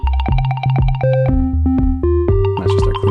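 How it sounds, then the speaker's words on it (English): Two Elektron Analog Drive pedals set to clean boost carry a synth bassline and lead: punchy, clean, stepping notes with bright pitched tones over a steady sequenced rhythm, and no voices. "That's just our clean boost."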